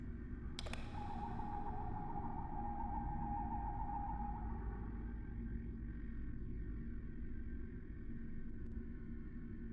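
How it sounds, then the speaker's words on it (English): Scanning a coronal distortion in the video game Star Trek Online, a sharp electronic ping followed by a long sustained scanning tone and a low rumbling hum under game ambience. "Let's scan this coronal distortion then."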